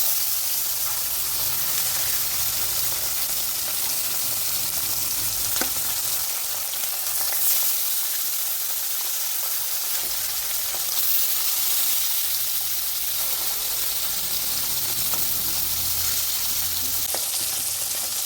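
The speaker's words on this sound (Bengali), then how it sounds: "এক এক করে এভাবে আমি মাছগুলো ভেজে নিচ্ছি" Sarpunti fish frying in hot oil, a steady close sizzle and hiss filling the whole stretch with a few faint clinks of handling.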